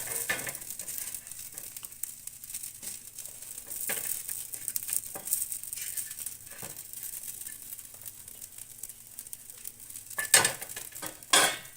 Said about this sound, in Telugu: ఈ కారం వేసిన తర్వాత మనం దీన్ని లో ఫ్లేమ్లో మాత్రమే ఫ్రై చేసుకోవాలి